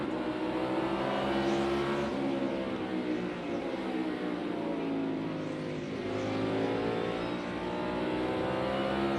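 A NASCAR Cup Series race car downshifting during the All-Star Open, its engine note dropping and rising as it brakes and accelerates, loud and continuous with other cars roaring around it and no talk.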